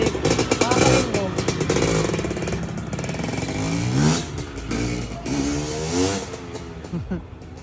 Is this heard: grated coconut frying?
no